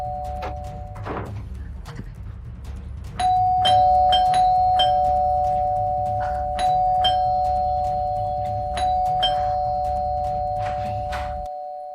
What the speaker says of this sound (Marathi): किती वेळ बेल वाजवायची